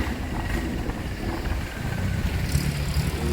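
Tourist ride boat running its engine on the water in Bangkok, a steady close rumble with broadband wind-like rush throughout and a brief brighter hiss near the end, no voices.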